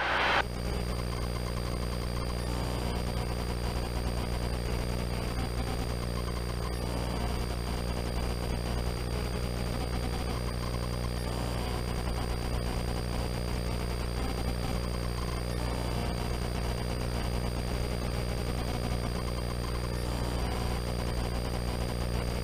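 Helicopter engine and rotor drone heard from inside the cockpit during a low southbound flight at about 600 feet, a steady, loud mechanical hum with constant tonal whine and no talk.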